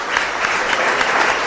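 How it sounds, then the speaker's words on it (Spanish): A brief, dense burst of steady applause from a congregation at Mass in the San José Obrero parish church in Asunción. "un fuerte aplauso entonces para el Señor."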